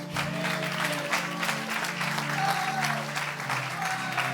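A church congregation claps for the sound crew, a sustained, fairly close round of applause with voices mixed in under the clapping.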